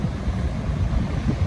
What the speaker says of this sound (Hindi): सो मतलब वेव्स इतनी ऊंची आती हैं